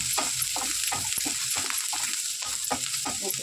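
Tamarind and spices frying in a pan for a spicy kara chutney, a bright continuous sizzle broken by repeated rhythmic stirring scrapes and clacks, close up and without speech.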